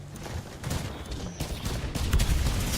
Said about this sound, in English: I'm shooting them out.